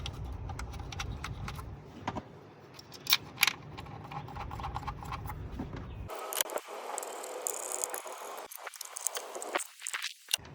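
Quiet ratchet clicks and small metallic handling noises come from 10mm bolts being tightened on the ignition coils of a 2015 Kia Sorento 2.4L, close and soft, with a shift in background hum partway through.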